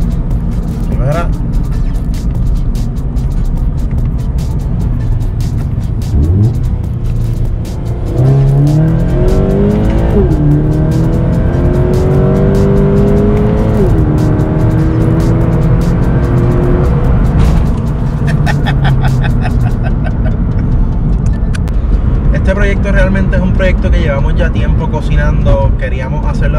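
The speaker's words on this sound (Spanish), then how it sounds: "Vamos a ver cómo acelera esto." A car in manual sport mode with traction control off accelerates hard, its engine revving through rising gear pulls with tire squeal, loud and close throughout, while people talk over it.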